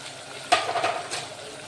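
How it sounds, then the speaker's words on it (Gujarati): A faint sizzle from a pan as spices are stirred while cooking papdi goti shaak, a soft scraping swish swelling and fading twice over a quiet background. "તો હલાવી લઈશું અને બધા મસાલા આપણે આમાં કરી દઈશું"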